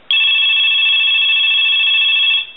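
A Coleco Cabbage Patch Kids toy telephone rings once in a single steady electronic burst of about two and a half seconds, close and loud, then stops abruptly.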